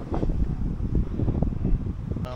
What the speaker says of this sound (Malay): So berangin kuat lah.